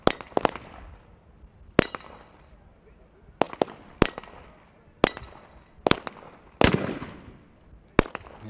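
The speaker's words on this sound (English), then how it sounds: "There goes the second of the sniper shots" Sniper rifle shots ring out at a SWAT team competition in Dubai, about eight sharp, loud cracks spaced unevenly over several seconds, with a voice talking in between.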